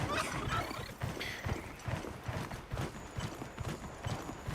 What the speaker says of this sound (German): Ich will dieses Pferdchen holen.